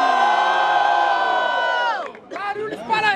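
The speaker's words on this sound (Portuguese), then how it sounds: "Pra confirmar, barulhos para Big Mike" A loud crowd at a rap battle roars and cheers in a long sustained shout, then breaks into scattered excited yells.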